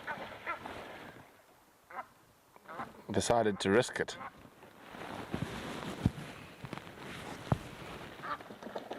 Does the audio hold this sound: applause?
no